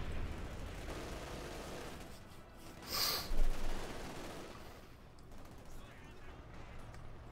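Machine gun fire in Company of Heroes 2 crackles faintly in the distance, rising into a brief, louder burst midway, while a commentator talks over the battle sounds.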